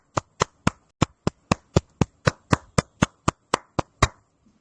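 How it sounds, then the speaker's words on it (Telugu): Hands clap for a presentation at a meeting in sharp, evenly spaced claps, about fourteen in roughly four and a half seconds, near and crisp, in unison like a rhythmic beat rather than scattered applause. "ఒకసారి అందరము గట్టిగా మన సిస్టమ్ కోసం చప్పట్లు కొడదాం సార్"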